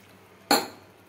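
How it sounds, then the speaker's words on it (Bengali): A single sharp metallic clink rings out as potatoes and soybean chunks are tipped into a cooking pan, then fades quickly against a quiet background. "আলুটা দিয়ে আমি এর মধ্যে সয়াবিনগুলোও দিয়ে দিচ্ছি। আর দিয়ে দেব আর একটু জল।"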